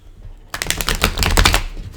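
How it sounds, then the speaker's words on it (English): Tarot cards being shuffled: a dense run of crisp riffling clicks and slaps, close and fairly loud, starting abruptly after a half-second of quiet and continuing steadily to the end. "I guess the cards didn't like that shuffle. I'm gonna go one more time."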